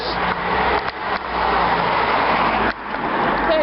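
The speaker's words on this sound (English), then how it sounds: "there's cars coming now" Cars pass on a road in Lebbeke, Belgium, a loud broadband whoosh of traffic sweeping by close to the listener, with two brief dips between vehicles.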